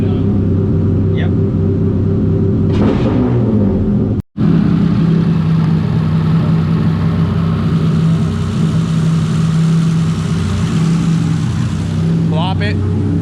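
A Honda V6 with CNC ported heads runs steadily and loudly, a constant droning rumble close by, cutting out for a split second before resuming with a slight rise in revs.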